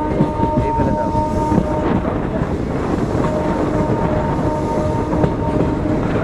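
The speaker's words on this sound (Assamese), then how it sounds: "এনেকৈ ট্ৰেইন খাল টাৰ্ণিং মাৰিল" A train rolls along the tracks near Guwahati, Assam, on the way toward Kamakhya. A continuous close rumble carries a faint tonal hum, with wind buffeting the microphone throughout.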